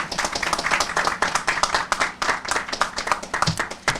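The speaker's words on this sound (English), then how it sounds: "So give her a huge round of applause." Audience applause at an outdoor skate park groundbreaking ceremony, a lively burst of clapping from a modest crowd with distinct individual claps, steady for about four seconds.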